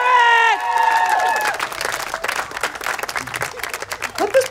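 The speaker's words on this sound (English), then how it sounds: "let's give a round of applause for Emily Scarrett." An audience at a final after-party breaks into applause and cheering after a musical sting, dense clapping that gradually thins out while voices mix in.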